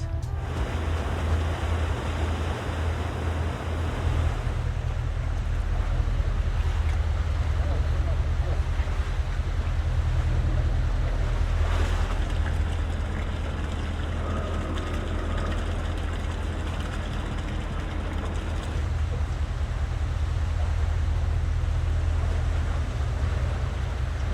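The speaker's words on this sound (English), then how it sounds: "Now let's go behind and record some harbor sounds." Steady low rumble of a ferry's engine under lapping harbor water and light wind, continuous and fairly close throughout.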